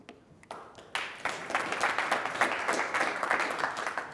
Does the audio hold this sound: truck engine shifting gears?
no